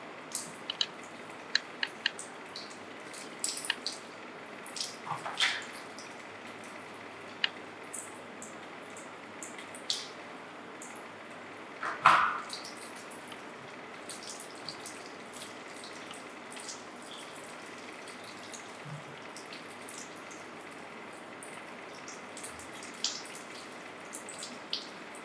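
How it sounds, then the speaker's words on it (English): Hands washed with soap under a running tap during a clinical blood culture sample collection, a steady soft water hiss with scattered faint drips and splashes, alone and fairly quiet throughout. "Wash hands with soap and water."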